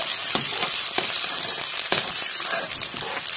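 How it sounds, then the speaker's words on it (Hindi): Onion and dry spices fry in hot oil, giving a steady, loud, close sizzle with a few light clinks and stirring scrapes throughout, without any talking. "तो ये देखिए तेल गर्म हो चुका है, और अब मैंने डाल दिए इसमें सूखे मसाले, और ये डाल दिया प्याज"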